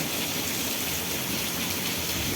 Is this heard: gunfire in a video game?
no